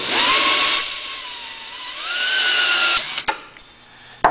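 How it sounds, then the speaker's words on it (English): A power drill whirs at high speed, its whine rising slightly in pitch midway, then stopping abruptly, followed by a few sharp clicks and clatters. "while you spin the power drill."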